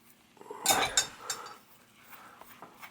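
A cone nut spun off the axle of a bicycle wheel hub during freehub servicing gives a few light metallic clinks and rattles, close and brief, with no talking.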